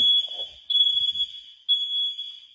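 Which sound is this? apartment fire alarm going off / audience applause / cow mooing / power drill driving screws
apartment fire alarm going off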